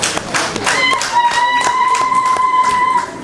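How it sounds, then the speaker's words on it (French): An audience applauds the national president at an ordinary general assembly in Parakou, with scattered claps and taps running for about three seconds under a steady high ringing tone. "Applaudissez pour le président national, Pajit Pajiter"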